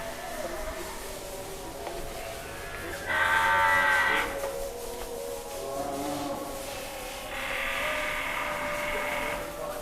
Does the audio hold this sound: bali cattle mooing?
yes